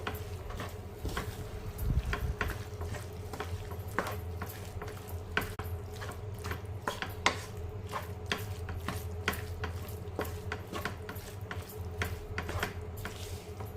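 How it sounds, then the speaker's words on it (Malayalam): Squid pieces coated in masala are stirred in a pan over a high flame, with repeated soft scraping clicks and ticks over a low steady hum, fairly quiet and evenly paced. "അപ്പോൾ ഞാനിപ്പോൾ ഹൈ ഫ്ലെയിമിൽ വെച്ചിട്ടാണ് ഇത് മിക്സ് ചെയ്തെടുക്കുന്നത്"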